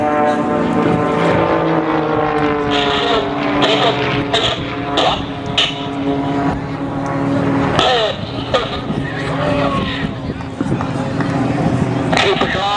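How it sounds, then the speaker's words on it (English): A 260 horsepower Lycoming piston engine on a Pitts S2B aerobatic biplane drones loudly and continuously at an air show, its pitch rising and falling as it maneuvers, with occasional voices underneath. "a factory-built S2B, a 260 horsepower Lycoming engine and a stock propeller"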